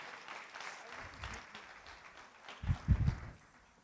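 Audience applause at an aviation safety and security conference, a soft distant patter of clapping under faint room noise, with a few louder thumps near the end.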